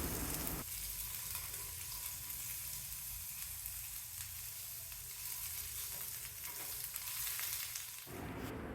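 Raw peanuts fry in a pan for a chutney, giving a loud, steady, close sizzle that continues throughout without pause.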